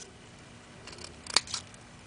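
Scissors make a single crisp snip through material for model grass pieces, followed by a fainter second cut, close and quiet against a still background.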